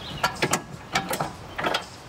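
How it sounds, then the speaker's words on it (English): A hitch pin, a 5/8 ball fastening pin, slipped through a hitch and turned to lock, making several close metallic clicks and ratcheting clacks in quick succession. "Slip it through. This one just turns and locks, and now it's secured in place"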